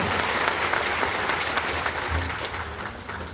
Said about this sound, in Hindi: इनके लिए ताली बजाइए जोरदार।